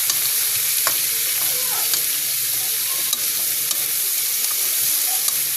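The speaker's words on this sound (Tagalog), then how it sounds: "Igisa lang natin ng igisa yung ating papaya hanggang sa lumambot na yan." Papaya sautéing in a wok gives a constant dense sizzle and crackle, with a few faint taps of a spatula against the metal, close and steady, no voices.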